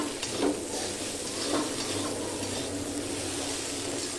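Mashed brinjal bharta with chopped peanuts is stirred in a frying pan. A steady, moderate sizzle is broken by two distinct scraping strokes of the spoon near the start.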